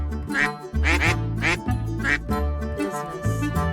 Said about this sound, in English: At that quack, she turned to the duck on her arm.